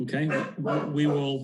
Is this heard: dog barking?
yes